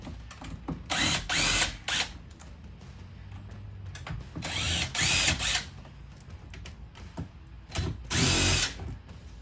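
Power tool spinning out long 10mm bolts at the rear of a Ford Bronco, three separate loud, close whirring bursts with ratcheting, handling clatter between them.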